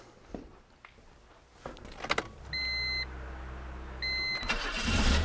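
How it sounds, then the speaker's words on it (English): A Honda Civic, fitted with an ACDelco remanufactured alternator, cranks with a key and catches, then settles into a steady smooth idle, nearby; a couple of short electronic chime tones sound during the idle. "The engine starts readily and idles smoothly."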